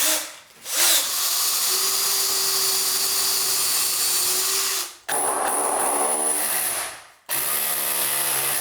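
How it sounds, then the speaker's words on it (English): A power drill bores into wood to seat anchor bolts on a stone house, whining loud and close in three bursts separated by brief pauses, the pitch shifting as the bit bites deeper. "we're going to drill down into here, set in the anchor bolts beneath the surface of the wood"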